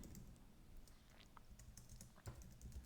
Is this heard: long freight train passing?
no